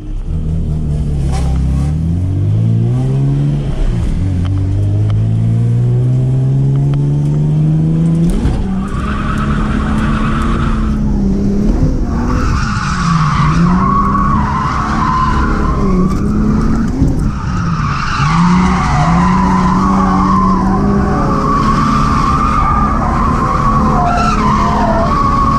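Turbo GT86 show car on air suspension driven hard, engine revving up through rising gear pulls with long tire squeals and skidding, loud and close throughout.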